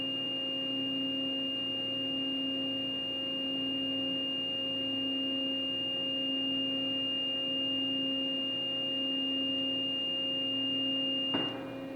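A Herr-Voss coil slitting line, 60-inch and rated for 50,000-pound coils, runs with a steady electrical hum and fixed tonal whine, unchanging throughout, then a brief knock near the end.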